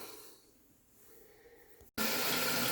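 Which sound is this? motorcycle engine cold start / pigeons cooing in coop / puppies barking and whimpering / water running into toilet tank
water running into toilet tank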